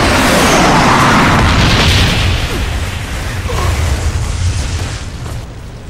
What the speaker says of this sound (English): Napalm strike awaiting orders. Napalm strike awaiting orders. Bomb strike coming in.